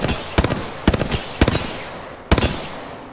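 A weapon firing in a video game: four sharp, loud bursts of rapid shots spaced out over a few seconds, with no talking.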